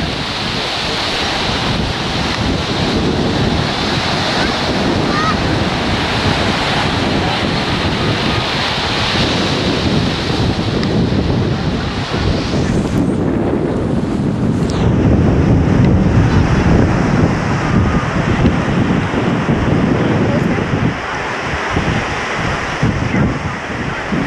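Constant wind and surf at Hapuna Beach, Hawaii, white sand shore with green and blue water: a loud, steady broadband rush of waves with heavy wind buffeting the microphone throughout, no clear voices.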